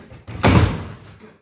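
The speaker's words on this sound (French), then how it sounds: "je vais fermer la porte" A door swings shut in a garage workshop during assembly of a Cox 1600 engine, giving one dull thud followed by a short fading rumble, with no talk over it.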